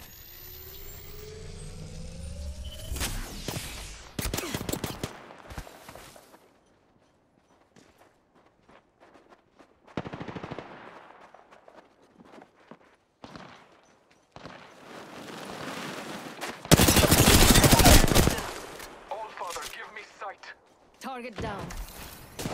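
Gunfire in a multiplayer shooter video game comes in loud bursts, with dense broadband blasts around the three-second mark and a heavy volley near seventeen seconds, separated by quieter stretches of footsteps and game effects.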